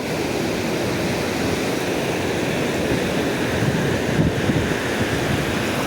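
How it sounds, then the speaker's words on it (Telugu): Sea waves wash steadily onto Suryalanka beach at Bapatla, a continuous loud roar of surf with wind buffeting the microphone and no voices. "ఇప్పుడు ఈ అలలు ఒడ్డుకొచ్చి పోతున్నాయి కదా సముద్రంలోకి"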